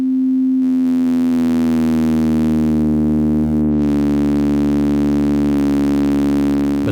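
A synthesizer tone from two hard-synced oscillators drones steadily with a buzzing, distorted timbre and rich harmonics, sustained alone for several seconds with slight pitch drift.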